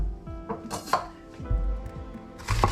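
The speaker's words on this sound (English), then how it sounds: "First, we're gonna chop these veggies." A knife chopping onions on a cutting board, a few sharp irregular knocks spread across a couple of seconds, close and distinct, with a faint tonal hum underneath.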